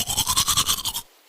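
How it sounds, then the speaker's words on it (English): Toothbrush scrubbing teeth, about nine quick rhythmic strokes close up, brisk and bristly, then it stops abruptly. "brush my teeth"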